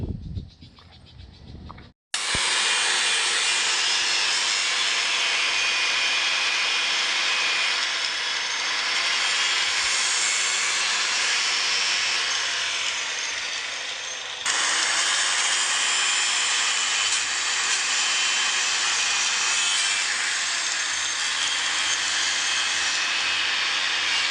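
An angle grinder cuts off a nut on a Hino 700 Series truck with a loud, harsh, continuous metallic screech. It runs for about twenty seconds, with a brief dip midway before grinding resumes.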